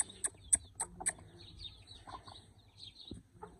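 Chickens being fed mint cluck and peep softly nearby, with a quick run of short high calls at the start followed by sparser, quieter clucks and rustling.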